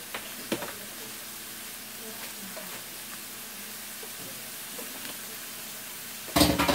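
Onions sautéing in a pan give a steady low sizzle with a few soft stirring clicks, then a louder burst of sizzling and scraping near the end.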